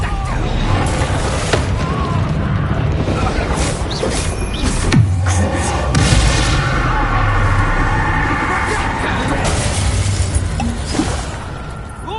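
Confringo blasting spell in the wizarding game Hogwarts Legacy: loud booming bursts and crashing impacts with whooshing magic over a dense battle din, while voices shout during the fight.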